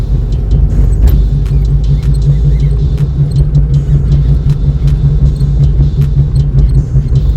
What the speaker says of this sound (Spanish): Yo tengo que esperar a que pasen algunos vehículos porque pasan muy rápido